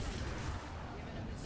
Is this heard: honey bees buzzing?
no